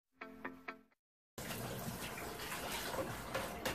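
A kitchen tap runs steadily while dishes are washed up, a close continuous splashing rush that starts abruptly after a brief silence; a short voice precedes it.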